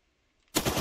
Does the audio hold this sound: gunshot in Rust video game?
yes